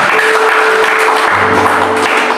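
Applause from a church congregation at a worship service held in a Jakarta apartment, a steady dense clapping wash filling the room over a low sustained musical drone.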